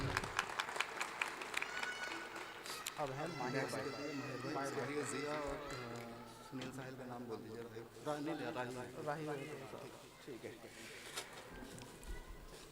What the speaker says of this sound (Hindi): आपकी तालियां लगातार बजती रहनी चाहिए